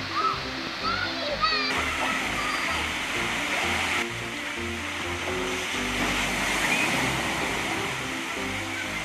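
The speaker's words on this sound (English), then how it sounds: "and a water park splash zone." Water rushing and splashing at a water park splash zone in Magalies Park, South Africa, a steady broadband roar with birds calling near the start and faint voices beneath.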